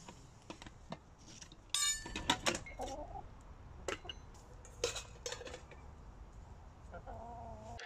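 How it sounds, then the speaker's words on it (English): A Trangia camp stove being set up outdoors, off grid: light metallic clinks and rattles of its parts come in scattered bursts, with a few birdlike calls nearby and no clear talk. "because I'm doing this off grid with my Trangia camp stove, I'm going to get this set up now"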